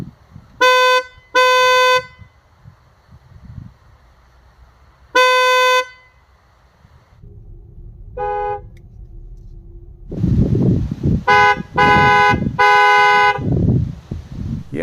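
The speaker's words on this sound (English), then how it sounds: "It's just a horn, it's not that important, but it does sound better" A Renault Megane E-Tech electric car with two-tone Fiamm horns gives several short, loud honks: two blasts, a pause, another blast, a brief toot, then a quick run of three, with background noise between.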